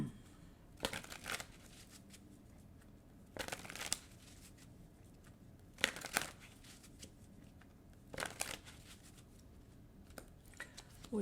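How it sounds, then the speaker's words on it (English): Tarot cards being riffled and shuffled in four separate bursts a couple of seconds apart, soft and close over a quiet room with no talking. "it takes me too long to shuffle once"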